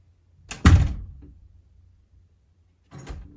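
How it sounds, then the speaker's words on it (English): An indoor door swings shut with a single solid thunk that fades, followed after a pause by a softer knock or second bump. Nearby and fairly clear, with no talk over it. "Close the door."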